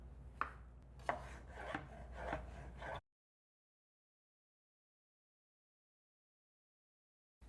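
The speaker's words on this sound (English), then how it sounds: "These tomatoes, I'll just cut them like that too." A knife cuts through tomatoes on a board in a home kitchen, with several distinct slicing strokes and scrapes over three seconds, then silence.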